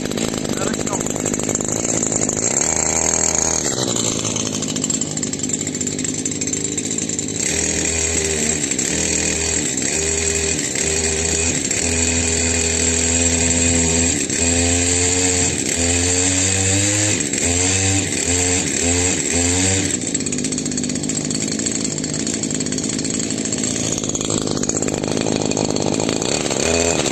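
A new Stihl chainsaw, started cold, runs loud and close with a steady idle, its pitch rising and falling as the engine is blipped and warmed, while someone talks over it.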